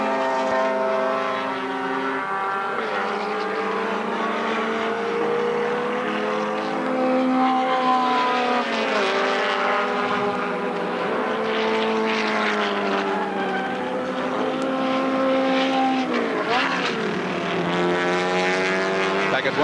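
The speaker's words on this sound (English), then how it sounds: "At Wanneroo with just over a lap remaining in the streetcar scratch race." Race cars in a 1986 street car scratch race at Wanneroo, heard as a steady, loud engine drone with rising and falling tones as cars pass, lasting throughout with no pauses.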